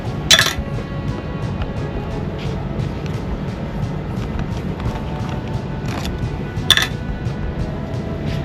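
Small carburetor parts clink into a metal muffin tray in a garage, a few sharp metallic chinks spaced apart over a low background rumble.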